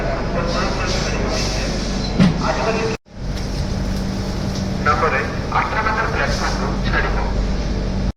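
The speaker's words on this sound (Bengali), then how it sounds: "আমাদের ট্রেন তার সময় থেকে 1 মিনিট দেরিতে পুরী ছেড়ে বেরোচ্ছে।" The Puri Howrah Shatabdi Express pulls out of Puri station with a steady, close low rumble of the moving train. A voice talks over it throughout.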